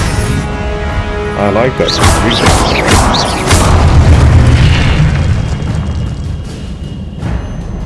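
Confringo spell explosions in Hogwarts Legacy go off in quick succession: loud booming bursts with whooshing crackle, mixed with game sound effects while a person talks over them.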